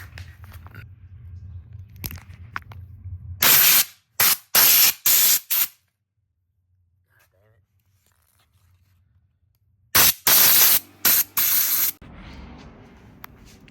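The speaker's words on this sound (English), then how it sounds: "now what you're gonna want to do is just shoot everything off with the air compressor" Short loud hissing blasts from an air compressor nozzle blow off plastic parts of an HPI Savage RC car, coming in two clusters of quick bursts with near silence between them, close to the microphone.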